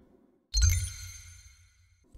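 A coin pickup chime in the game Eternal Dreamland rings out once as a bright, shimmering tone with a soft thump beneath it. It fades out gradually over about a second and a half.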